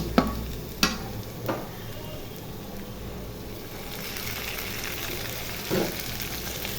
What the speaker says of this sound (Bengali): পেঁয়াজ ভাজা হয়ে গেছে এখন আদা রসুন বাটা দিয়ে দিব